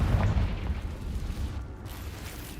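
A Confringo spell explodes in Hogwarts Legacy, a dense low booming burst at the start that decays into a steady rumbling roar for a couple of seconds, fairly quiet overall with no voices.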